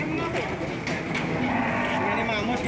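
Brahman and Limousin cattle at an Indonesian cattle sale, one loud, close, sustained moo filling the moment, with no talk over it.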